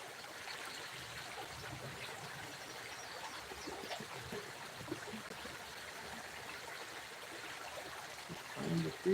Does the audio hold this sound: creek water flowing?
yes